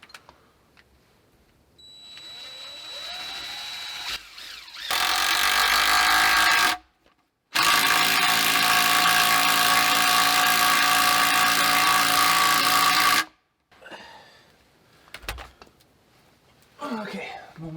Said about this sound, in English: drill it through this log so it's going to be easier to hold it and drill at the same time